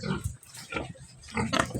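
Pigs grunt and oink while being fed bottle gourd, a short run of close, loud grunts in uneven bursts with no talking.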